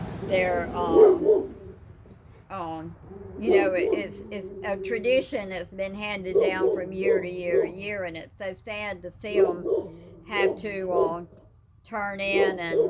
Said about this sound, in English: he sees a neighbor's dog across the road and he has to bark